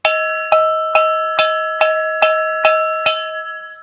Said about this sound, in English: So there's your cowbell, Ryder.